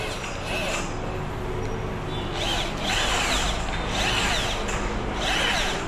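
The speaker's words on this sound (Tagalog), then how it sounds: "Ginagamitan namin ng barena, tapos spring na pang linis doon sa sa barado." An electric drill driving a cleaning spring through a clogged pipe whirs in repeated bursts, a harsh rasping buzz that rises and falls, with faint talk in the background.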